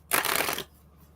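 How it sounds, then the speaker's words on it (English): A deck of tarot cards gets a single quick riffle shuffle, a short crisp burst of flicking card edges close up, then quiet. "These cards don't want to shuffle."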